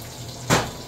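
A short burst of water rushing from a kitchen tap, loud and brief, starting abruptly midway and fading quickly.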